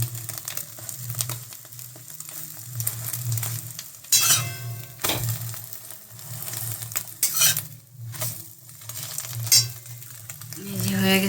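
An omelette fries in a hot pan, giving a steady sizzle under repeated scraping and stirring clinks of a utensil against the pan. No one speaks.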